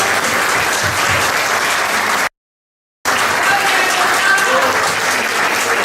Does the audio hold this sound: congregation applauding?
yes